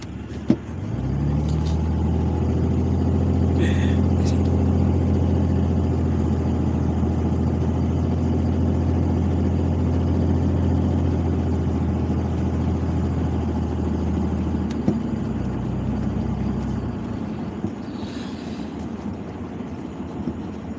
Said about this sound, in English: my personal vehicle is a diesel truck. It's a pickup truck.